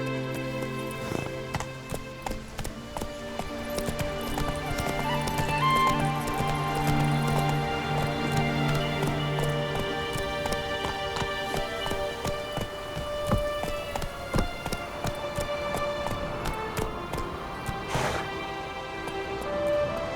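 A horse in The Witcher 3 clip-clops along at a steady pace, its hoofbeats crisp and fairly close, with a soft ambient bed and scattered small ticks behind them.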